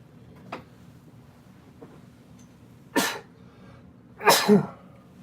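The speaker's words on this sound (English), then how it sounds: "Now I gotta sneeze." A sharp sneeze bursts out, followed moments later by a louder double sneeze, with faint sniffs and soft room noise before them.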